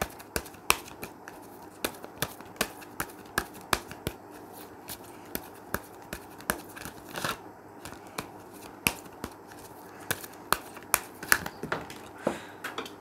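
A tarot card deck being shuffled by hand, with rapid crisp riffles and sharp slaps of cards repeating in an irregular rhythm, close and clear with no voices.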